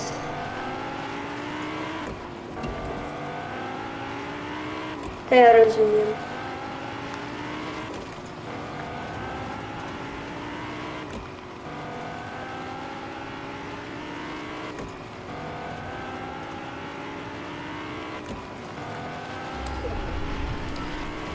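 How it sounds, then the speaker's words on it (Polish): Car driving in the video game Fortnite, a continuous engine drone with rising rev sweeps and a short loud burst midway, with a brief spoken line over it. "Ale ładny samochód."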